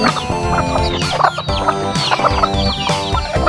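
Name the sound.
chickens clucking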